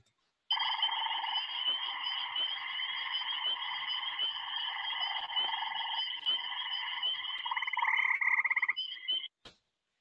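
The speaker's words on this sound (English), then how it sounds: "you'll hear peepers and tree frogs trilling in the background before you hear the one in front of you trilling" A frog in Maine trills continuously at close range for about nine seconds in spring, a loud buzzing call that grows stronger near the end before stopping abruptly.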